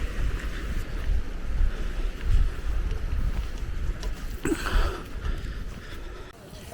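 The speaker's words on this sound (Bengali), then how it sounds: "কি প্রচণ্ড হাওয়া দিচ্ছে মনে হচ্ছে টেন্ট উড়িয়ে নিয়ে যাবে" Strong wind roars around a tent at a mountain camp near Nandanvan and Khara Patthar, buffeting the microphone with a steady, heavy rumble, gusting throughout with no talking.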